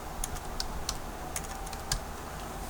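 Typing on a computer keyboard, a run of quiet, irregular key clicks close by at a steady low level, with no voices.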